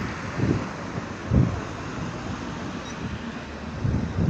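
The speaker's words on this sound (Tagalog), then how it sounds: "talagang malakas po ang hangin" Strong storm wind at a ninth-floor height in Terni, Italy, roars steadily into the microphone, with low buffeting gusts swelling every second or so; no voices are heard.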